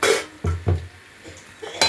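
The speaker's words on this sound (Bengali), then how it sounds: "ভালো করে কষতে থাকবেন" Masala for dhaniya paneer is stirred and sautéed in a pan, with a spatula knocking and clanking against the metal several times in an uneven rhythm, close by.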